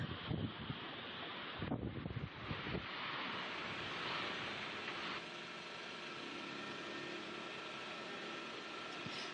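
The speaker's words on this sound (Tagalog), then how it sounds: "Kita rin mula sa pantalan ang malakas na bugso ng hangin at ulan" Strong, steady wind and rain roar across the mic at a port in Lucena City, Quezon, during a storm, a broad rushing hiss gusting heavily in the first few seconds before settling into a constant blustery drone.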